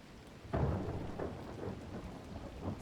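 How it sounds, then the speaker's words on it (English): Thunder rumbling through steady rain in the survival video game The Last Caretaker, a sudden loud crack easing into a long rolling boom with further low rumbles over constant rainfall, no voices. "Thunder. Lightning and the thunder."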